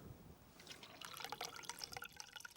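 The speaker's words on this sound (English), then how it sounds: "Bal is going to pour that into the tank" Vegetable oil mixed with white spirit is poured into the fuel tank of a diesel car, a faint, steady gurgling trickle of liquid running for a couple of seconds.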